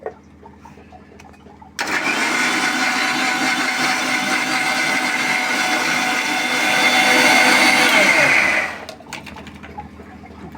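A blender grinds beetroot juice with water, mint powder, black salt and lemon, starting abruptly with a loud steady whir that swells near the end before cutting off, with faint kitchen clatter before and after.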